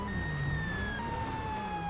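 A police siren sounds in the GTA V video game with a wailing tone that rises and falls over steady traffic rumble. It is moderately loud, with no talk over it.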